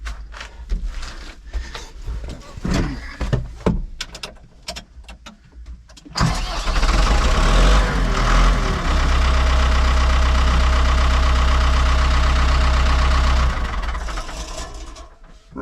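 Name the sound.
old tractor engine starting and idling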